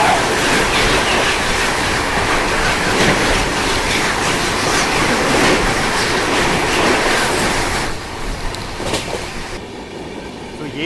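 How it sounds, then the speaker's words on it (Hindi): A passenger train rumbles loudly past another, the Patna Kota Express, with rhythmic wheel clatter and rushing air heard from on board, easing somewhat toward the end as a voice talks faintly. "और सामने से पटना कोटा एक्सप्रेस के साथ अपनी क्रॉसिंग होने वाली है।"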